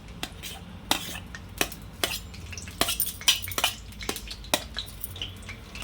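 Green chillies tossed into hot oil in a pan, a soft frying hiss broken by repeated sharp clinks of a metal spoon against the pan, close and irregular.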